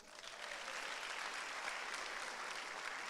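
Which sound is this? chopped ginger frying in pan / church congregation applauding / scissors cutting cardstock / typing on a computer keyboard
church congregation applauding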